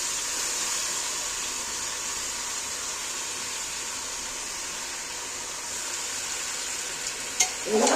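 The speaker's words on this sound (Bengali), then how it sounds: "মাংসটা আমি এর মধ্যে নাড়াচাড়া করতে থাকবো আস্তে আস্তে নাড়বে" Marinated chicken stirred and fried in a pan after cumin and bay leaves were toasted in oil, giving a steady, continuous sizzle with a clack of a utensil near the end.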